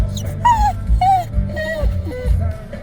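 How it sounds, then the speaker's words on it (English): A puppy whimpers and yips in a series of short, high, wavering cries, close and fairly loud, with soft thumps and movement beneath. "Oh yes, puppy."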